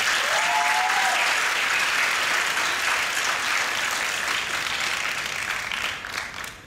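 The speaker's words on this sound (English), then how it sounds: "Please, give the teachers a round of applause." Graduation audience applauding the teachers at a high school valedictory ceremony, a dense, sustained wash of clapping from a large crowd that holds steady and tapers off at the end.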